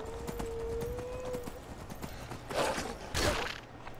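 Horse hooves clip-clop in Skyrim, a run of close, rhythmic hoof strikes with a sustained tonal note early on, then a couple of louder bursts of game noise toward the end, with faint voices in the mix.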